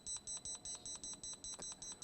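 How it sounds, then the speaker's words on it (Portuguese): A handheld wall detector scanning for PVC pipes, nails in wood and steel in concrete emits rapid, evenly spaced high-pitched beeps, about five per second, clear and close. "O bip continua igual"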